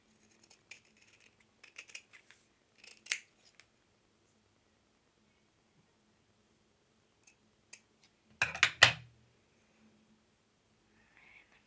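Scissors snip dried fabric around a safety pin, a few quiet scattered clicks early on, then a brief louder cutting burst near the end, with long quiet gaps between.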